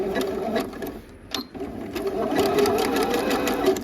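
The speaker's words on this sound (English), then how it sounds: "I'm going to stitch all the way down to the end of my elastic." A domestic sewing machine runs a zigzag stitch along overlapped elastic at a jogger waistband, its needle whirring steadily after a short stop and restart, close and loud.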